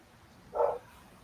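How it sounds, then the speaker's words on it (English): Dogs at home let out one short, muffled bark that sounds distant and quiet over a faint background. "my dogs are going crazy"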